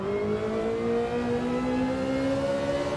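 A Gr.3 race car in Gran Turismo 7 on the Grand Valley circuit holds a steady engine drone that climbs slowly in pitch as it accelerates, loud and continuous with no talk.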